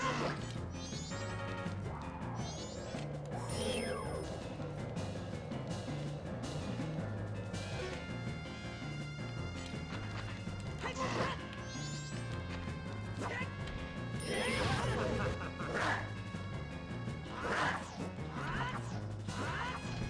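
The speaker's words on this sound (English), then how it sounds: "Glass breaking?" Glass shatters again and again in a video game, with dense, repeated crashes and smashes layered over a busy, continuous game soundtrack and no talk.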